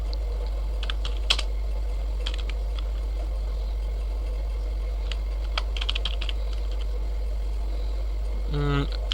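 Scattered clicks of typing on a computer keyboard while writing C code, faint and irregular against a steady low hum, with a brief cluster of louder keystrokes near the end.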